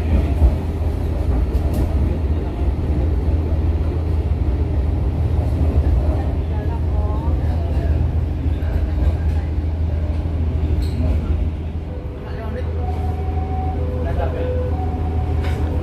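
A passenger train rolls into Surabaya Pasar Turi station in Indonesia. A loud, steady low rumble of wheels on rails continues throughout, softening slightly near the end, where faint tonal squeals appear.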